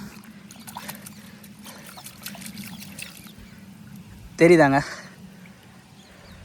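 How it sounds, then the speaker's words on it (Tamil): A tuber being rinsed by hand in water, with soft trickling and sloshing under a voice, then a brief louder splash as it is swished. "இந்த தண்ணியில் நான் அலசி காட்டுறேன்"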